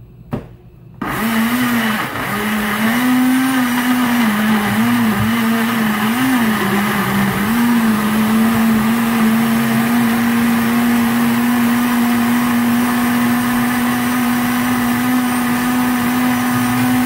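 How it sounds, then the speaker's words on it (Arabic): A blender whirs loudly and steadily for a long stretch while blending a marinade with vinegar, its motor pitch wavering slightly at first before settling into a constant drone. "هضرب بقى ده كله كده في الخلاط عندي"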